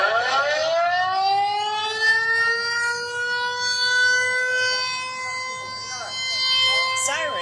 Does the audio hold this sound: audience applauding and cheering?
no